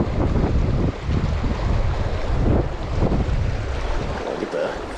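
Strong wind buffets the microphone beside a small clear creek, a continuous loud rumbling roar with gusty surges that masks the faint water sounds.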